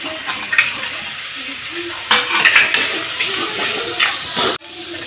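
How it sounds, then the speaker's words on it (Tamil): Crushed shallots and garlic are stirred into a sizzling pan mixture, scraping strokes over steady frying hiss, close up, ending abruptly. "சேர்த்துக்கிட்டு நல்லா மிக்ஸ் பண்ணிக்கலாம்."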